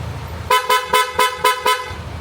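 Six quick, evenly spaced honks from a PIAA horn on a Yamaha NMAX V3 Tech Max scooter, loud and close, followed by a low idle hum.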